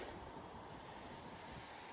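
Ocean surf washing onto a beach at Hunting Island, heard as a steady, faint, broadband wash of waves with wind noise and no distinct breaks or voices.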